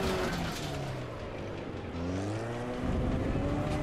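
An opponent car's engine in the PC driving game Next Car Game buzzes nearby, a quick rising-and-falling whine with tire noise sweeping past within a few seconds.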